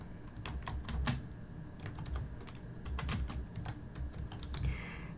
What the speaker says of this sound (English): you're going to type the date